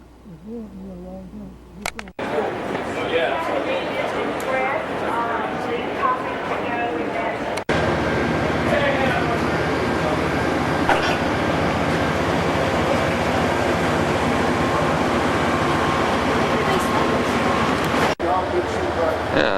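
Amtrak California Zephyr passenger train pulling into Denver Union Station, a steady loud rumble of rail cars with rattling and hum throughout, with people talking over it.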